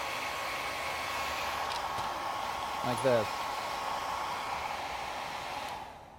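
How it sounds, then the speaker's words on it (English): A small portable hairdryer blows steadily on paint on artwork, a constant close whirring hiss, with a brief spoken phrase in the middle before it trails off at the end. "I usually end up using like a little portable hairdryer, small one"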